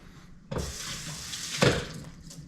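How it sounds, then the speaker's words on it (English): A kitchen tap starts running sharply and splashes over wet hands at a sink, the flow shifting loudly as the hands move beneath it, close and with no talk. "I'm gonna get my hands wet again real quick."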